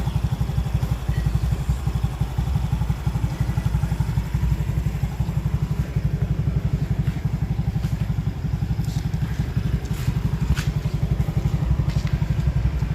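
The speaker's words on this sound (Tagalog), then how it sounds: "i-try naman natin itong paanda rin itong ating Honda Genio para marinig nyo yung" A Honda Genio scooter engine runs at idle close by, a steady fast low putter with a rhythmic thumping pulse and light clatter throughout.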